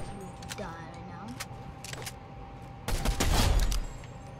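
Gunfire in a Roblox game sounds in a short loud burst of rapid shots partway through, under faint background game noise and talk.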